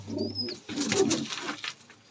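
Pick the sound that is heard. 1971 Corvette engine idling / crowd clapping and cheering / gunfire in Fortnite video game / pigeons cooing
pigeons cooing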